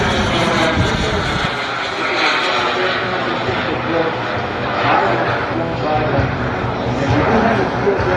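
A scale model SR-71 jet flies in a noontime demo at a radio-control air show, twin turbine engines roaring steadily and loudly with a rising and falling whine throughout.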